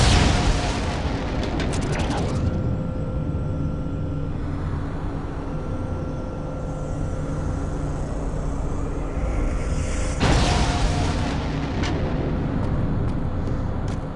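Enemy machine in the game Unreal 2 overloading before it explodes, a continuous loud rumbling roar with a steady hum, swelling in bursts near the start and again later, with a voice speaking over parts of it.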